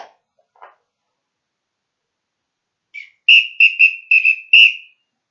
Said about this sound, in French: Le sifflet.